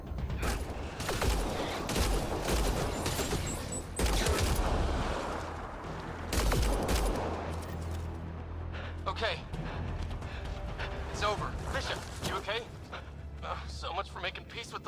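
Gunfire in the sci-fi shooter Mass Effect: Andromeda, with bursts of weapon shots and heavy thuds across a busy combat scene, mixed with voices and growling alien creatures.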